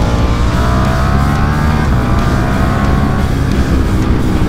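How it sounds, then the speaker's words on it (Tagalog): A Ducati motorcycle on a race track, its engine roaring loudly and steadily at high revs throughout, with a rough mechanical clutch and drivetrain rattle in the mix and no voices. "naririnig nyo ba yung clutch na yon?"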